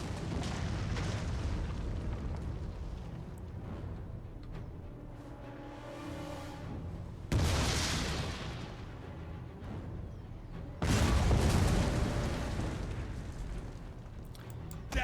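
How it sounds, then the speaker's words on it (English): Explosive shot striking troops in a Total War: Rome II battle: a rumbling barrage of heavy booms and crackling bursts, with two especially loud, close impacts partway through. "And they're using explosive shot, which is not really very effective."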